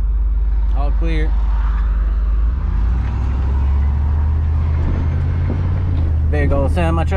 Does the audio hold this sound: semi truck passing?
yes